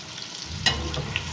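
Onions for beef biryani caramelize in a pan with a soft steady sizzle and a brief scrape of stirring, close and quiet, with no talking.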